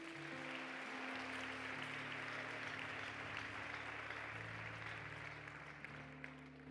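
Church congregation applauding, a dense, continuous spread of clapping that stays steady throughout, with sustained music tones playing underneath.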